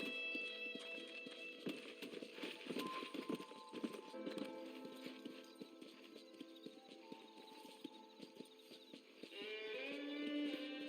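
Horse hooves clip-clop in a steady trotting rhythm in the Western video game Red Dead Redemption, close and continuous beneath a swelling orchestral score, with an occasional snort.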